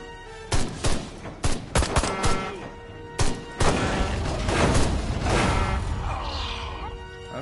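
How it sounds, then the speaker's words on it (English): Gunfire crackles in the PS4 remake of Destroy All Humans. Loud, sharp shots come in rapid bursts, then settle into a sustained noisy rumble of continued firing, with a voice faintly underneath. "Wait, what are they shooting at?"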